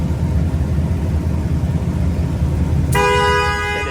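Near the end, a car horn sounds once as a single sharp, sustained honk over the steady rumble of idling engines in a downtown parking deck.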